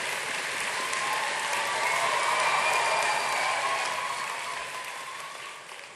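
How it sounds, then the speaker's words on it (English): A large graduation audience at a university ceremony claps and cheers together, a dense wash of applause that swells in the middle and fades toward the end, with no voices standing out. "clap, stamp your feet, or cheer loudly to show your warm appreciation of all the efforts of your family and friends"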